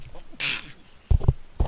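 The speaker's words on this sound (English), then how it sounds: "I did not mean to sneeze in everyone's ears" During a Krita animation tutorial, someone lets out a single short, breathy sneeze close to the microphone, followed by a few low thumps and faint mouth noises.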